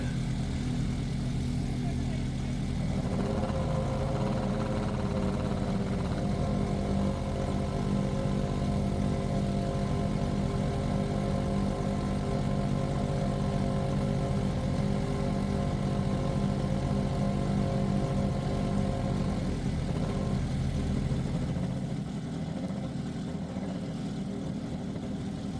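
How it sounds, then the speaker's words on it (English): A land speed race car engine idles cold at El Mirage dry lake, a steady, loud, rumbling drone that holds throughout and eases slightly near the end. "Engine sounds a little cold this morning."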